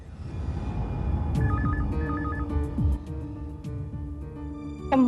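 A telephone rings in short repeated electronic bursts, fairly clear over a soft musical background in a Hindi crime drama scene, with no talking.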